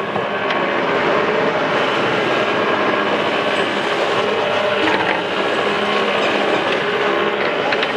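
A machine churns lime, soil and cow dung together for making bricks, giving a steady, loud, continuous mechanical roar with rattling texture that holds unchanged throughout.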